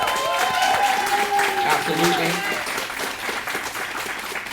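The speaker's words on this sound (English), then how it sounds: "Round of applause for them, please." Audience applause for high school students serving at a town hall forum, a steady broadband clapping that runs throughout with a voice speaking over it.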